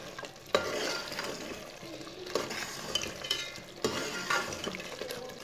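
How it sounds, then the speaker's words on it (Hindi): Mutton masala curry with fresh coriander being stirred in a pot, with repeated scraping and stirring strokes over a light frying sizzle, close and fairly quiet, no talking. "सब्ज़ धनिया डाल लेंगे। इसे अच्छी तरह मिक्स कर लेंगे।"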